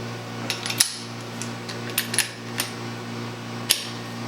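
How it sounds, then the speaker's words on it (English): Metallic clinks and taps of a wrench working the solenoid nut on a Bosch diesel injector, a handful of sharp separate ticks over a steady low mechanical hum. "Now I'm going to go ahead and loosen the solenoid nut"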